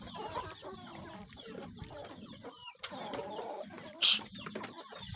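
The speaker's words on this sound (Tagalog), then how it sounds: "nagugutom na itong ating mga manok" Native chickens cluck softly and continuously at a distance, with scattered rustling and a brief sharp noise near the end.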